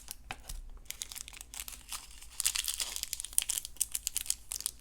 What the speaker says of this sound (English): the bag is sealed. So that's a little different because all the other bags weren't sealed. So let me snip it open